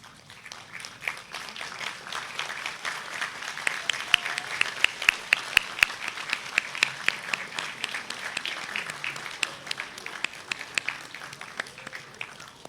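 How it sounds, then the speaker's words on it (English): Graduates rise and give families thunderous applause at a university graduation ceremony in a large hall, a dense, sustained wash of many hands clapping for over twelve seconds, with a few sharp near claps standing out. "giving your parents and families a thunderous applause"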